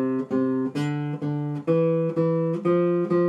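A classical guitar plays a slow series of sustained notes, each wavering with a steady vibrato shake, close and clear with no talking.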